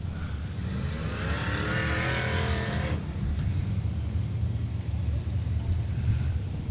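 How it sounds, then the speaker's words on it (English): IMCA Southern Sport Modified race cars rumble and rev at a dirt oval, engines droning steadily with a rising whine in the first half that fades, leaving a continuous low roar of several cars. "IMCA Southern Sport Modifieds ready to take the track for a big 20-lap main event."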